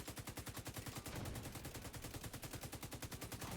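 Rapid, steady video-game gunfire plays loud and close, an automatic weapon rattling in a fast unbroken rhythm for the whole stretch.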